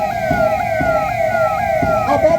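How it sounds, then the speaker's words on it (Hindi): A 112 emergency response vehicle passes a saluting stage in a Republic Day parade in Sonbhadra, its siren wailing loudly and steadily in repeating up-and-down sweeps over crowd and engine noise. "आपातकालीन सेवा के लिए सदैव तत्पर वाहन 112 सलामी मंच के सामने से गुजरती हुई"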